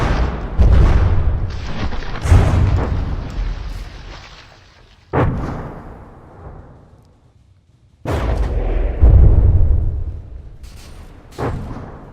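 A battlecruiser's secondary magazine blowing up in From the Depths, heavy booming explosions in two big bursts, each rolling into a long decaying rumble with scattered crackling pops.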